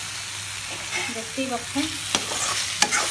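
Tomato stirred into chicken curry paste in a pan, a soft sizzle with scraping stirs and a couple of sharp utensil knocks, close by, under a brief line of speech.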